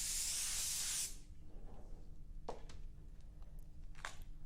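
An airbrush spraying metallic blue Auto Air Colors paint for a third coat, a close, steady hiss for about a second that cuts off abruptly, followed by quiet room tone with a few faint clicks.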